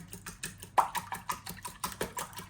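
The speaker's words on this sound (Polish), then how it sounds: "Teraz rozbijam jajka." Rapid, regular clicking taps of a whisk or fork against a bowl, close by, continuing steadily without speech.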